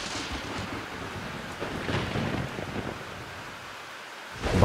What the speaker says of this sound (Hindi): बारिश लगातार हो रही थी